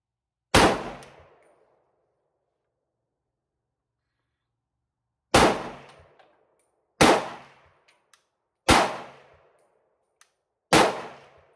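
A Century Arms VSKA rifle firing rounds at targets outdoors, five loud, sharp shots with ringing decay, one alone, then four spaced about two seconds apart, no talking.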